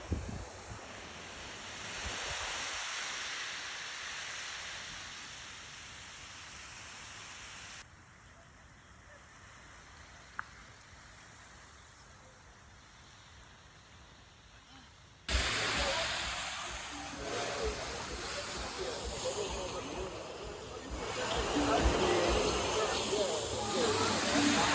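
Steady rushing water roar from a small waterfall on the Ha Giang Loop in Vietnam, quieter in the middle stretch and then much louder and closer, pouring nearby.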